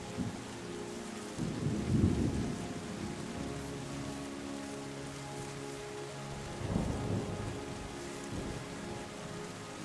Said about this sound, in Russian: Ну, кстати, первый дождик, видимо,